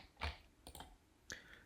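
A command is typed on a computer keyboard in a few quiet, close key clicks and taps spread unevenly over a second and a half, with no talking.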